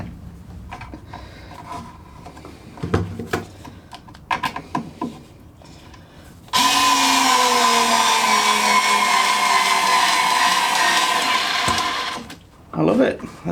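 Aldi Workzone 3.6V cordless screwdriver drives a screw into oak with no pilot hole, a loud, steady motor whir with a falling-pitch strain lasting about six seconds, preceded by handling clatter and a brief restart at the end.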